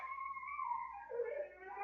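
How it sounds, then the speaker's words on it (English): A puppy whimpers and whines indoors in a high, wavering tone, faint and somewhat distant, with the pitch sliding down and back up over a couple of seconds. "I'm so sorry if you guys can hear the puppy."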